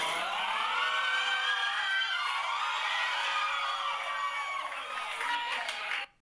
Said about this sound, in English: The screams of horror.